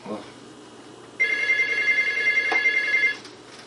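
A telephone rings loudly in one sustained burst of about two seconds, a bright electronic warble that cuts in abruptly and stops, with a quiet room before and after.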